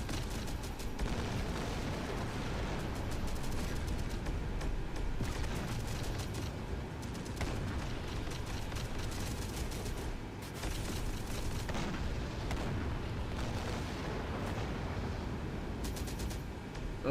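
Continuous rumbling artillery fire and explosions in a PC war game, a dense, steady roar of distant booms with no clear breaks, moderately loud throughout.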